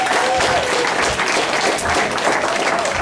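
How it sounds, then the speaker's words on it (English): Steady, dense applause from a graduation ceremony audience at Mattapan Tech in 2012, clapping for the graduates. It fills the whole stretch at an even level without breaks. "give a quick round of applause to all the graduates"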